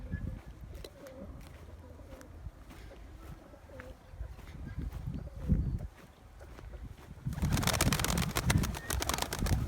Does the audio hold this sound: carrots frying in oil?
no